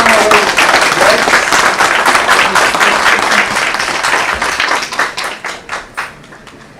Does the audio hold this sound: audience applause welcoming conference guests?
yes